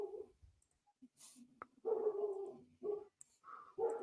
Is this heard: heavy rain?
no